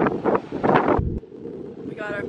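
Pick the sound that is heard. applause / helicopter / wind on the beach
wind on the beach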